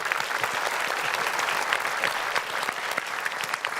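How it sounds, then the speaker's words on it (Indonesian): Studio audience on an Indonesian TV quiz show breaks into lively applause, dense crisp clapping sustained throughout at moderate loudness with no talk over it. "Boleh tepuk tangan."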